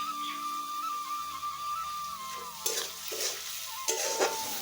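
Spice masala with salt and turmeric, for a vegetarian cauliflower curry, fries in a pan under a soft steady sizzle, then several sharp scraping stirs of a spoon against the pan, close by, with no talking.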